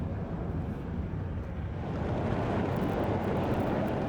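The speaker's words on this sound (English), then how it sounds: "The noise you can hear is tons of coal that has spontaneously burst into flames in this open-cast mine." Tons of coal burning in a spontaneous open-cast mine fire at Jharia, eastern India: a continuous, dense roaring rush with no distinct breaks, steady and fairly loud throughout, with no voices.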